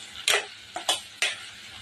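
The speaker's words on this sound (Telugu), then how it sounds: "ఈ టమాటాలు కూడా బాగా మగ్గేదాకా కలుపుకుందాము" Spoon scraping and stirring tomato pieces frying with onions in a pan, three distinct sharp strokes over a faint sizzle, close and alone.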